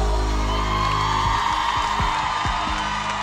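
Concert crowd cheering and clapping, a loud continuous roar of whoops and applause blended with sustained tones from the stage.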